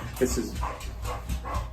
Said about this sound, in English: That's my dog breathing in the background there.